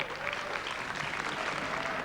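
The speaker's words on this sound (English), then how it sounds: "How about we have a massive round of applause for all 12 finalists" A big audience at a beauty pageant final applauds the finalists, steady dense clapping filling the room with no voices over it.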